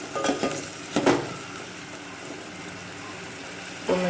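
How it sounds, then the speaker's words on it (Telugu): Tomato is stirred into browned onion in a pan for a potato and eggplant curry: a low sizzle runs throughout, broken by a few sharp scraping stirs and clinks of the spoon against the pan, with no voices. "నెక్స్ట్ టొమాటో వేసాక కలుపుకోవాలి."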